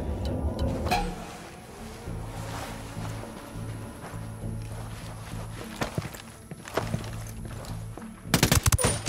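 Weapons fire in Ghost Recon Wildlands near a cartel-run gold mine, with scattered shots over a droning background hum and a loud, rapid burst of gunfire near the end.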